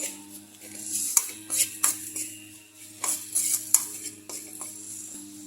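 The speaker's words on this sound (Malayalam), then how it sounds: "ഇതിൻ്റെ ഇന്ന് പച്ചമണം മാറുന്നവരെ ഒന്ന് മൂപ്പിച്ചെടുക്കാം" Turmeric and Kashmiri chilli powder roasting in a pan for a nettle and lentil stir-fry, with a spoon scraping and clinking against the metal in short bursts over a steady low hum.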